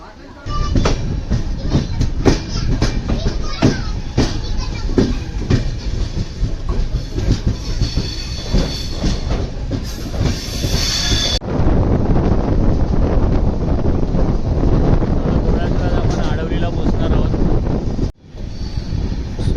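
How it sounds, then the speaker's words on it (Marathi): Konkan Railway train pulling out of Rajapur station and running along the tracks, a steady loud rumble with rhythmic wheel clicks and wind buffeting, continuous for most of the stretch with a brief drop near the end; a voice talks over it. "राजापूर स्टेशनवरून ट्रेन निघाली आता"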